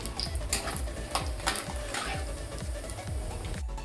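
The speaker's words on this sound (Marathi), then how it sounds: "आता ह्याला सोनेरी कलर येईपर्यंत परतून घेते।" Sautéing in a mix of ghee and oil until golden: a soft, continuous sizzle with rhythmic low scraping thumps as a spoon stirs repeatedly through the pan.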